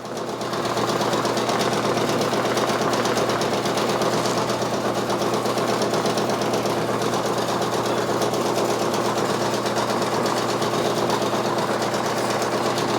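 A Brother Persona PRS 100 embroidery machine stitching a design, giving a steady, loud, fast mechanical whirring and rapid needle chatter that runs without a break.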